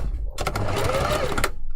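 A sewing machine runs in one quick steady burst, stitching a 5mm seam on a puffy fursuit hand paw, close and clear with no talking.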